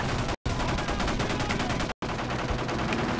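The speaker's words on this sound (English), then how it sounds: "They're dual machine pistols, man." Dual machine pistols firing in a competitive video game match, loud rapid bursts with two very brief cuts in the sound, no voices.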